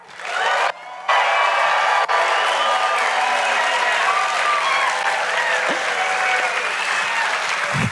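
A musical theater audience claps and cheers in a loud, dense, continuous burst that runs for several seconds after a short opening pause, with scattered whoops mixed in.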